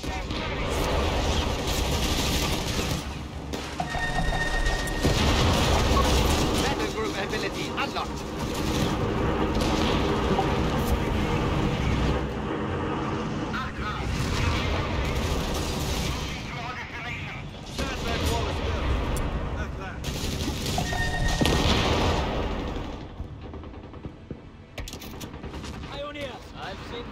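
Mortar rounds and other gunfire boom repeatedly through a Company of Heroes 3 multiplayer battle, loud and dense, with voices calling out over the sustained combat noise.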